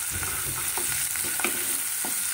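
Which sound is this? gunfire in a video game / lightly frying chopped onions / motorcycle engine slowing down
lightly frying chopped onions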